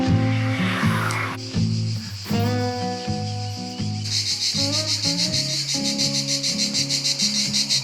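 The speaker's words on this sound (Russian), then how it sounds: "Даже днем цикады стрекочут очень громко" Cicadas in olive groves above Lake Como near Varenna give a loud, fast-pulsing buzz that swells halfway through, heard over tonal background music.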